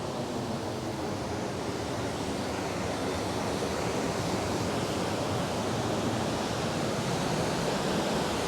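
Spring water rushes past an old mill at Mammoth Spring in Arkansas, a steady dense roar of flowing water heard close and unbroken, with no voices.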